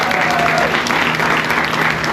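Audience at a community organization event applauding staff and volunteers, a loud, steady wash of clapping from a crowd close by with no pauses.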